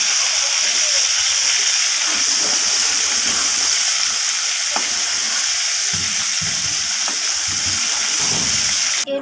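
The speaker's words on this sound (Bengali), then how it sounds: "এরপর আমি তেলের মধ্যে ফোড়ন দিয়ে দিলাম সাদা জিরে আর তেজপাতা।" Cumin seeds and bay leaf sizzle in hot oil after cauliflower frying, a loud, steady crackling hiss close up, continuous for several seconds with small pops and no talk.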